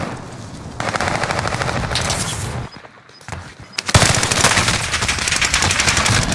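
Loud automatic gunfire rattles in rapid bursts during a shooter match on the Caldera map, with a short lull midway before dense firing resumes close by.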